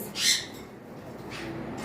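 An albino cockatiel, one of a large breeding pair, gives a short, fairly loud chirping call near the start, then a fainter second call against a low background hum.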